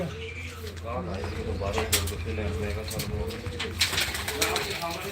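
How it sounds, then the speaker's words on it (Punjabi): Six rooftop pigeons coo in a steady low warble close by, with brief bursts of wing flapping and a few chirps over a continuous background hum. "6 ਦੇ 6 ਇਸ ਛੱਤ ਦੇ ਕਬੂਤਰ ਉੱਡ ਰਹੇ ਨੇ ਜੀ"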